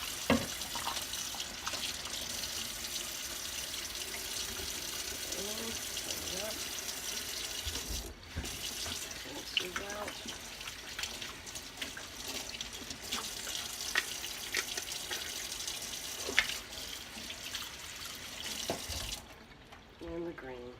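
A hose runs water steadily into plastic bottles of tie dye, a continuous rushing, splashing flow close by that lasts throughout before cutting off near the end.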